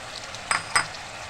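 Eggplant pieces and a fish head frying in a pan give a soft background sizzle, broken by two quick metallic clinks of a utensil against the pan.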